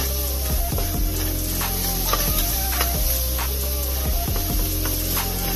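Meat browns in a pan for Rotel dip, sizzling loudly and continuously up close with scattered crackles and occasional stirring scrapes.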